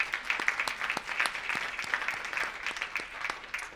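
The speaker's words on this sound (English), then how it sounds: "Can we give him a round of applause" Audience at a political event for a state treasurer candidate clapping, a brief burst of dense applause with distinct individual claps close by.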